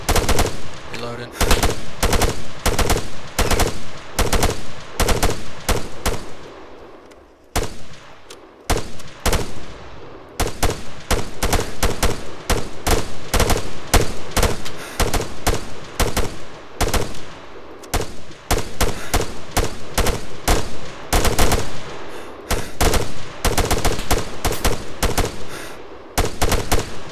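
Heavy machine gun fire fills a battle in the video game ArmA 3: loud, close, rapid bursts and long strings of shots repeat throughout with only short gaps, and there is occasional talk underneath.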